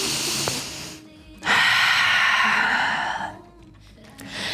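Slow yoga breaths during a power flow session: a long, audible inhale swelling into a steady airy exhale, breathy and close, with a soft hiss trailing at the edges.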